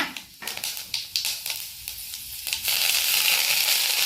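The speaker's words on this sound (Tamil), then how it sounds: "நல்லா கடுகு வெடிக்கட்டும்" Dense crackling and popping of mustard seeds spluttering in hot oil, with sharp bursts at first that build into a steady loud sizzle.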